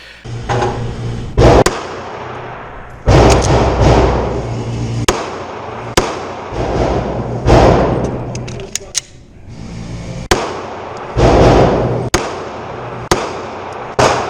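A Glock 19 pistol fires a string of sharp, loud, evenly spaced shots at a range, about a dozen reports with echoing tails, and the sequence includes a failure-to-eject malfunction.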